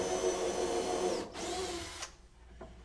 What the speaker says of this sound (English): And again, Joel, a lot of times people don't take the time to pre-drill those